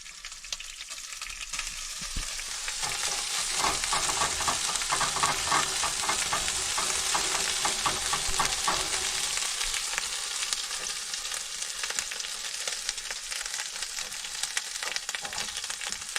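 Five eggs fry in a pan on a campground camp stove, a steady loud broadband sizzle that swells after the first couple of seconds and holds through, with light scraping and stirring taps mixed in.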